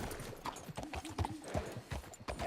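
Hooves of a horse clip-clop in a quick, uneven galloping rhythm in the video game Red Dead Redemption 2, close and fairly soft, with faint movement sounds around them.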